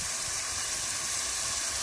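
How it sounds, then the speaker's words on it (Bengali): Spices frying in hot oil for a loitta fish curry, a steady broad hiss and sizzle held close and even throughout, with no voices. "প্রত্যেকটা মশলাটাকে একেবারে খুব সুন্দর করে ভালো করে ফ্রাই করে নেব"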